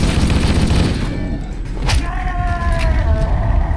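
Rapid automatic gunfire from a machine gun in the video game Halo: Combat Evolved, aboard the starship Pillar of Autumn, loud and continuous bursts mixed with explosions and game effects.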